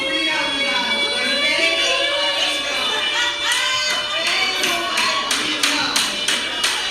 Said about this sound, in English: They're now clapping and booing me off stage.